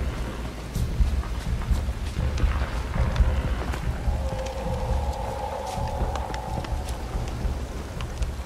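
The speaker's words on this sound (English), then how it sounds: "Looks like rain." Steady rain with low rumbling thunder in The Witcher 3, a constant wash of downpour with deep rolls underneath and a faint tonal hum in the middle, no voices.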